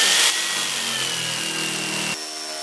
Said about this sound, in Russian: Пилочка у меня короткая, ну, пилит хорошо, претензий абсолютно никаких.